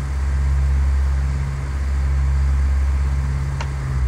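In the video game Flight Simulator X, an aircraft engine runs at full throttle as a steady, loud, low droning hum holding constant for about four seconds.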